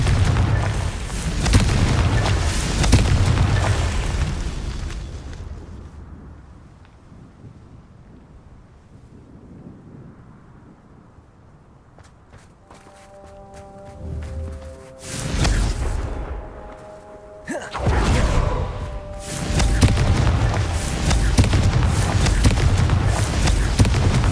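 A Confringo spell exploding in the video game Hogwarts Legacy, a loud booming blast that rumbles and fades, then a quieter stretch with tonal hum before another heavy burst and sustained roaring noise.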